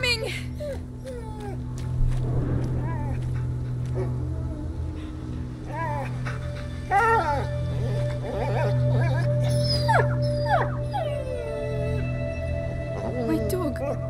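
A dog whimpers and yips in A Plague Tale: Innocence, giving soft, wavering cries mixed under voices and game ambience across the stretch.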